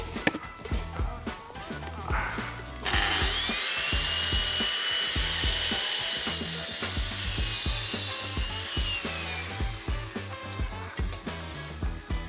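A power cutter slices through a downpipe on a garden build at Chelsea 2025: a loud, shrill grinding whine holds for about seven seconds, with rhythmic mechanical knocks and clatter before and after it.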